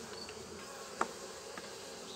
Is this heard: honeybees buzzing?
yes